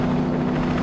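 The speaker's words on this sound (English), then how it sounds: "There's another helicopter!" A helicopter in the open-world game Saints Row 2 gives off a steady, loud, chopping rotor drone for a brief moment.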